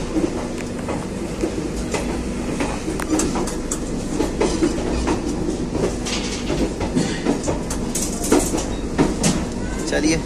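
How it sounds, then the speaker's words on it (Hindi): The Bhagalpur–Anand Vihar Garib Rath Express pulls out of Jamalpur, its wheels clattering in a steady, rhythmic clickety-clack over the rails with carriage rumble and occasional squeals close by. "चलिए जमालपुर निकल रही है ट्रेन अब।"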